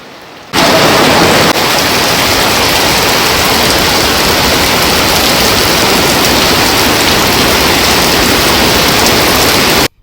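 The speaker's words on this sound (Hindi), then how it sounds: "बहुत अच्छी बारिश हो रही है" Heavy rain pours down steadily, a loud, dense wash of water that starts abruptly and holds constant throughout, with no voices.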